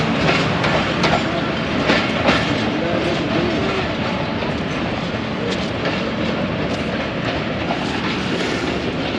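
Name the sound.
Allama Iqbal Express passenger train departing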